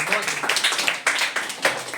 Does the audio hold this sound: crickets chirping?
no